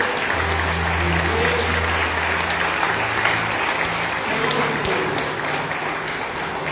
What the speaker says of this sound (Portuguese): Um aplaudir bem forte ao Deus